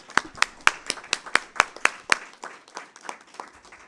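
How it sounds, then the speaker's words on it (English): A round of clapping at a school board meeting for the board candidates, starting with sharp, evenly spaced claps that thin out and soften toward the end, with no voices over it. "I think we deserve a round of applause for all these candidates"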